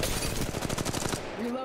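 Rapid automatic gunfire from an Apex Legends Mobile match rattles in a fast, even burst of closely spaced shots, then cuts off abruptly near the end.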